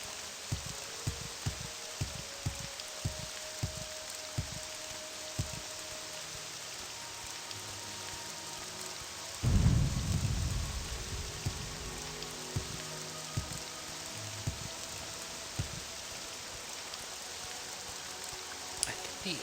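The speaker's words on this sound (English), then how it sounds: "At least it's raining." Rain falls steadily in the video game Morrowind as a soft continuous hiss with scattered drop ticks, and a brief low rumbling swell comes midway through.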